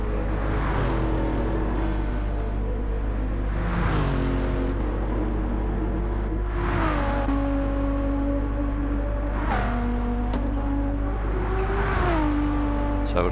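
A race car engine in Gran Turismo 7 at Bathurst drones steadily, its pitch stepping down and climbing again in repeated gear changes during a one-hour endurance race, with commentary voices faintly underneath.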